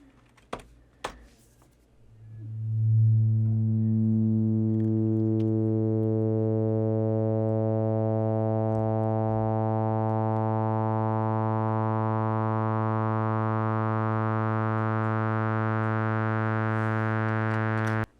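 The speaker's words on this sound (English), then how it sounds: "Like a slowly opening filter." A ChucK-synthesized tone, a steady sustained buzz whose filter slowly opens so it grows brighter and brighter over many seconds, heard alone after a few faint clicks at the start.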